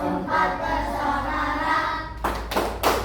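A primary classroom of fourth graders doing the rhythmic "tepuk anak hebat" clapping chant, voices chanting together in a tone-like drone, then sharp group claps near the end.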